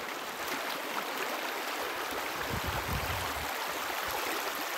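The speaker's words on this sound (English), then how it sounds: "River crossing number 500 million." Water rushes and gurgles steadily at a sandy river crossing in a national forest while a backpacker wades through, with soft splashing thuds close by against the constant flow.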